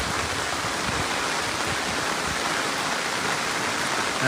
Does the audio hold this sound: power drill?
no